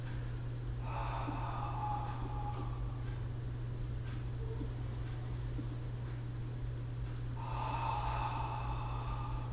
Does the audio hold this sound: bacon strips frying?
no